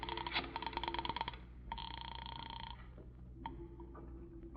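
A telephone in a radio drama rings in short, rapid bursts of a bright bell, then gives a dial-like electronic tone and clicks, all faint and with no voices.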